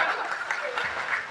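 Audience applause at a stage show, a short burst of dense clapping from a crowd.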